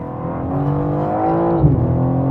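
Sports car engine dropping through downshifts, a steady close harmonic drone with a brief blip and pitch dip near the end, loud and alone.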